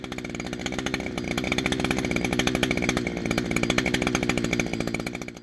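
A small engine runs steadily at high speed while its carburetor's low speed screw is adjusted, giving a loud, close, buzzy drone with a fast even pulse and no talk.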